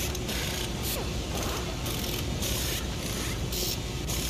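Floating Tank Man piñata in the racing game Forza Horizon 5 making a dense, continuous mechanical clattering and ratcheting whir, loud and steady throughout with no voices.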